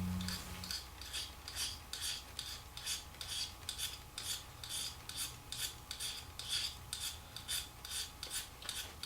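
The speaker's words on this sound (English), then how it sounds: "So we're shaving off a little magnesium, and we're not doing it in a whittling motion." A knife blade scrapes magnesium shavings off a ferro firestarter rod, a steady run of about twenty quick, rhythmic rasping strokes, close and crisp, with no talk.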